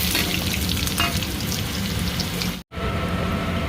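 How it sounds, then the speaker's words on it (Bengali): Onions frying in hot oil with cumin seeds in a home kitchen, a dense, steady sizzle close to the pan that cuts out for a split second near the end, with no talking. "পেঁয়াজ প্রায় ভাজা হয়ে গেছে,"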